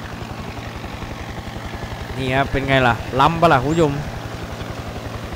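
A crop-spraying helicopter in the Farming Simulator video game gives a steady, rapidly pulsing rotor drone throughout, while someone talks over it in the middle.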